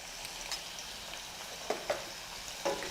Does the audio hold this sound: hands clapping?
no